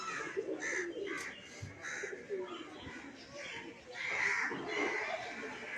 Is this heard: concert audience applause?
no